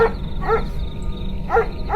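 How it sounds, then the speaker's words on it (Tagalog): Neighborhood dogs give a few short barking and yelping calls in the night, spaced a second or so apart, moderately close and heard alone. "dito na nagsimulang umalulong ang mga aso ng kapitbahay namin"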